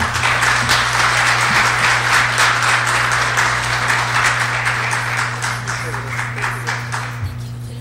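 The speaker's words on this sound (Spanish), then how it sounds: "Gracias por ese nutrido aplauso." Applause from an audience after a university lecture on photographic collections, a continuous wash of clapping over a steady low hum, gradually fading toward the close.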